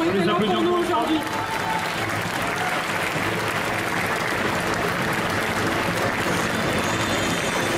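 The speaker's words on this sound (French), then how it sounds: "On peut les applaudir bien fort," An indoor festival crowd applauds cosplay contestants at a costume contest, a dense, sustained wash of clapping that continues steadily with a voice mixed in beneath it.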